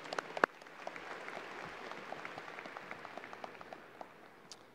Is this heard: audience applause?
yes